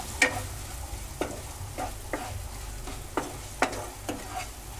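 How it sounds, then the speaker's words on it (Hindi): Coarsely ground spices are stirred and fried in a pan for a potato vrat dish, with a soft steady sizzle broken by about seven sharp spoon scrapes and taps at uneven intervals. "इन सबको हम अच्छी तरह से मिला लेते हैं"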